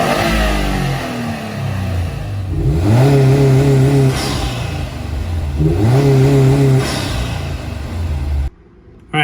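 A car with a Cobb Stage 1 tune accelerates hard through two rising gear pulls, engine note climbing and dropping between shifts with turbo whoosh, loud and close from inside the cabin before cutting off abruptly.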